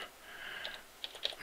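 Quick keystrokes on a computer keyboard, a few soft taps and a couple of sharper clicks spread irregularly over a second and a half, close and fairly quiet with no talking.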